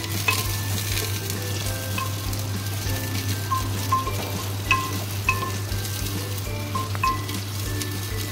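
Chopped onions, three of them, frying in oil for restaurant-style mutton handi: a loud, continuous sizzle with a steady low hum and occasional clinks of stirring in the pan.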